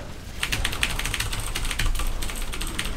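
Fast, continuous clatter of computer keyboard keys being hammered while playing a game, dense and close, with no talking.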